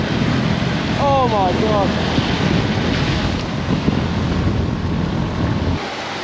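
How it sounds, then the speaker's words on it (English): Heavy rain and strong gusting wind buffet a motorbike ride through Vietnam, a dense, steady roar close on the microphone throughout, with a brief exclamation from a rider partway through. "It's absolutely pissing it down. And now the wind's picked up as well."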